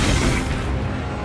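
An Incendio fire spell bursts in Hogwarts Legacy with a loud, dense, roaring whoosh of flame that stays full and sustained across its short length.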